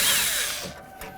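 A power drill spins out a bolt on a GMC Sierra door, a loud whirring burst that winds down over about a second.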